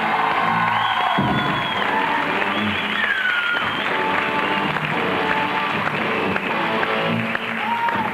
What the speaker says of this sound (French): Je demande d'applaudir très fort Nicolas Cirkis.